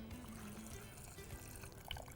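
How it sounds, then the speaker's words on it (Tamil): Water poured into a cooking pot while a spiced curry base of chilli, coriander and turmeric powders, bay leaf and cinnamon is being prepared; a soft, steady trickle with faint background noise throughout. "இப்போது தண்ணி"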